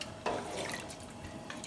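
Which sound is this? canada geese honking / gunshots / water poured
water poured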